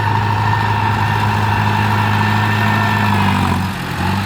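A Ford TS 90 tractor engine pulls steadily while ploughing, a continuous loud droning hum with a strong low tone and faint vibration, held smooth and even with a slight dip near the end.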